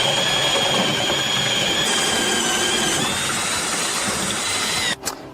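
A power drill with a 6.5 mm bit bores through the outer plate and entire door post of a 2019 Peugeot Partner/Citroën Berlingo-type van, a loud steady whine running for about five seconds before cutting off.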